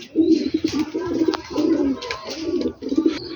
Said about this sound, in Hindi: ये जी जनाब पिंडी के जो कबूतर हैं, ये मेल है